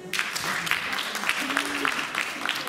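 A live French audience claps in a steady, moderately dense round of applause, with some voices murmuring in the crowd underneath.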